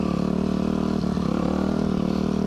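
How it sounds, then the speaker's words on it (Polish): A cross motorcycle climbing a hill in second gear off the throttle, its engine a steady, loud, even drone with no revving, held close throughout. "Ale ja bez gazu podjeżdżam na dwójce."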